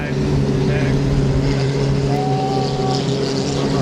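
1.5 litre hydroplane racing boats approaching the start line on a rolling start, their engines a loud steady drone with a rising whine, continuous and fairly close, while a commentator talks over it.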